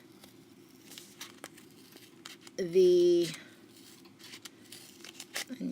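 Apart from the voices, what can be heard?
scissors cutting paper cup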